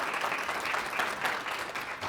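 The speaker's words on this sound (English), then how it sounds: "we should give our staff a huge round of applause" A gathered audience gives the staff a steady round of applause, dense even clapping at moderate loudness heard from within the room, with no speech over it.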